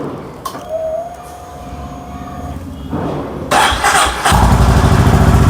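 A Honda CB350RS motorcycle's exhaust idles close by, then the engine is revved, growing louder and heavier in two steps toward a steady, throaty roar.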